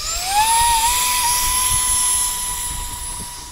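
Eclipson Inferno model jet on its maiden takeoff, its turbine a steady high-pitched whine that rises in pitch as it spools up, then holds loud and close before easing slightly, with no voices.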